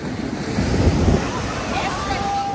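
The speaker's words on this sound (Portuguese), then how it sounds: "Que hora que vem uma onda forte." Ocean waves surge and break onto a crowded beach at Praia do Toque Toque Grande on the north coast of São Paulo, with a loud close rush that swells and then eases.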